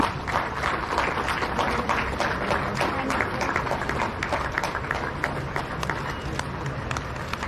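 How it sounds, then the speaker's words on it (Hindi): Dense, steady applause from a large crowd at a state government ceremony honouring officials, sustained for several seconds without pause, with faint voices mixed in. "और अब तालियों के बीच में"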